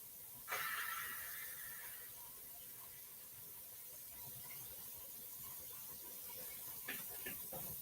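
A pressure canner full of French onion soup vents with a steady hiss that begins with a sharp squeal, holds a faint high whine, then carries a few soft clicks near the end, quiet and with no voices.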